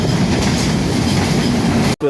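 A train rolls past near Natore railway station, its loud, steady rumble and rhythmic wheel clatter close at hand, broken by a brief sharp dropout just before the end.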